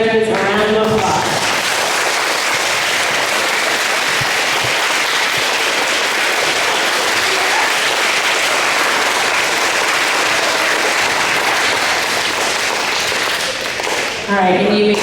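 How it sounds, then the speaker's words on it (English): An audience applauds fifth-grade graduates at a school graduation ceremony: sustained, loud, dense clapping for about thirteen seconds, with brief speech before it starts and again as it dies away. "everyone please give our graduates a round of applause"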